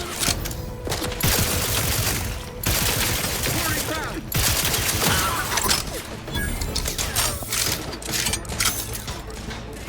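Rapid gunfire from a first-person shooter game, The Outer Worlds 2, fired at enemies and a turret; dense, continuous bursts of shots with mechanical clatter fill the whole stretch, with a voice speaking faintly underneath.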